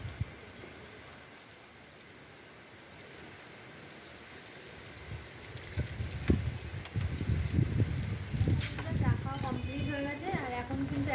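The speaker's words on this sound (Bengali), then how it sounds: "একদম হালকা হালকা বৃষ্টি পড়ছে" Light rain falls on a rooftop with a continuous soft patter that grows busier and louder in the second half, and a voice comes in briefly near the end.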